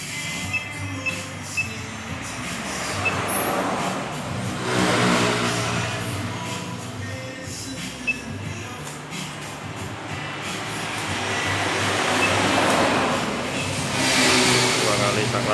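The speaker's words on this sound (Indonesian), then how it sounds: "Coba digas mas, TPS nya digas, throttle gas." The engine of a Kia Soul GT that keeps stalling is revved by throttle. The engine noise rises in two broad swells, around the middle and near the end, over a steady idle hum.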